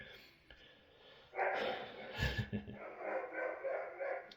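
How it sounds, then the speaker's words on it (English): A dog barks and yips in short, uneven bursts at moderate distance, with faint breathing and background voices around it. "There's the dog going off singing."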